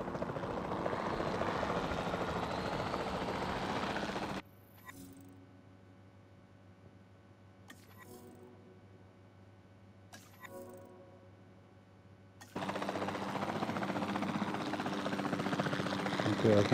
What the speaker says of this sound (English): the sensible thing is to take a capture team helicopter